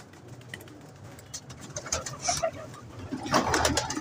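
Pigeon cooing while being held and handled, soft coos repeating in short bursts close to the microphone, with handling rustle and a louder stretch near the end.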